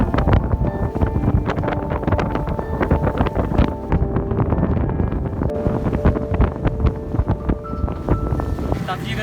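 Strong wind buffeting a sailboat ahead of an announced storm: constant roaring gusts and rattling, flapping clatter on deck, loud and close, with occasional voices.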